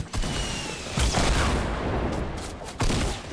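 Gunfire in a Fortnite squads match: distant rattling bursts and sharper nearer shots, with heavy booming hits at the start and near the end, steady background battle noise between.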